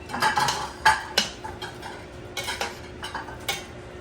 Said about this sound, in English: A little bit here to just go ahead and toss it up so that we give a lot more flavor throughout all the pasta